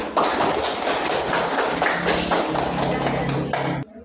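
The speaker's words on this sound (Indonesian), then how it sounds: "kita berikan aplaus untuk Clara" Classroom applause from a group of fifth-grade pupils: dense, continuous clapping at moderate loudness, running steadily for several seconds and then cutting off abruptly near the end.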